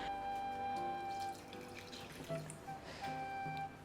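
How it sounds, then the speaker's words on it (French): Water poured from a tap or jug into a cooking pot for a one-pot vegetable rice, a steady splashing fill running most of the clip at moderate level with brief pauses, no voices. "on pourra mettre de l'eau, donc c'est l'équivalent de 3 verres d'eau exactement"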